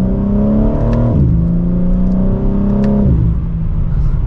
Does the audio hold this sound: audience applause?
no